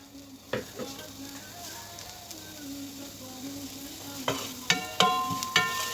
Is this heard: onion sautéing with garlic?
yes